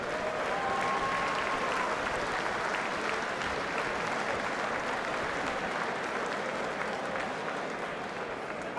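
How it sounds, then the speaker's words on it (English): A crowd at a boxing event applauds both fighters, steady dense clapping and cheering that holds at an even level throughout with no one speaking. "can we get a huge round of applause for both these fighters"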